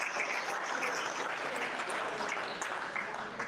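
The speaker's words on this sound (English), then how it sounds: "Give him a round of applause" Spectators at a tournament awards ceremony in Plymouth, Indiana applaud a first-time competitor, a soft, fairly distant patter of clapping from a small crowd lasting a few seconds.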